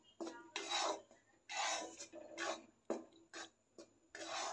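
Wheat flour and besan dry-roasting in a pan with no ghee, stirred in repeated rough scraping strokes, close and fairly loud, with short pauses between passes.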